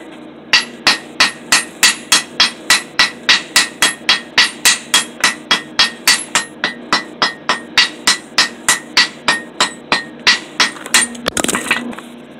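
Hammers forging a cable Damascus billet ring out in about thirty evenly spaced, loud, close metallic blows, ending in a brief scraping clatter.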